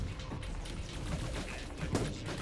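Rapid gunfire in the Echo Point Nova shooter game, a dense, continuous burst of shots with a few stronger cracks, heard at moderate, steady loudness throughout.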